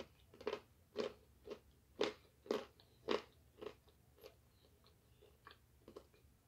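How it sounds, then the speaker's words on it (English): Crunchy food from a combo box is bitten and chewed up close, a series of sharp crisp crunches spaced unevenly, loud at first and then fainter and quicker toward the end, with no talking. "We already know the crunch is gonna be good anyway."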